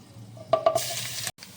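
Garlic paste drops into hot mustard oil with whole cardamom, clove and cinnamon, setting off a sudden loud hiss and crackle after a few clinks of a spoon.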